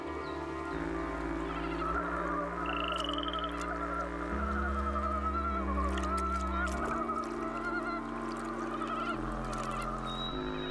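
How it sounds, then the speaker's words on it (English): A dense chorus of frogs gives mating calls at night in the Primorye forest of the Russian Far East, steady overlapping croaks and honking notes that run the whole time without a break. "As night falls, frogs serenade the forest with their mating calls."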